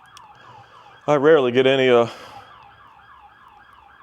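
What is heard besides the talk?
emergency vehicle siren passing outside the house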